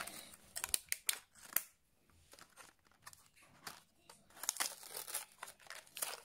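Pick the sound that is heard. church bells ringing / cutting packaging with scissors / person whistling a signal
cutting packaging with scissors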